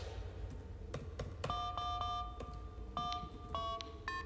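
A phone number is dialed in the horror game Into the Pit, with a sequence of crisp electronic keypad tones. Some are short blips and others are held beeps in an uneven rhythm, close and clear over a low background hum.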